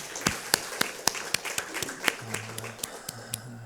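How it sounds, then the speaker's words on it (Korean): A church congregation applauds during a Sunday morning service, scattered sharp claps landing at an irregular pace, moderately near, with a low sustained organ or keyboard tone entering underneath partway through. "우리 찬양 가운데 임하신 하나님께 감사와 영광의 박수 올려드리겠습니다"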